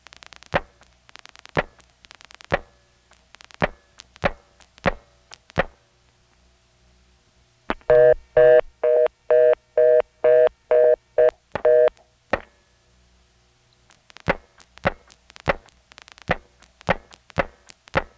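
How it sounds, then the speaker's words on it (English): A call to a distant area code plus 411 is dialed through an Atlanta 4E switch: a series of sharp clicks, then a burst of evenly spaced tone pulses, then more clicks, all crisp and close. "I'll reset the trunk and then dial a distant area code plus 411"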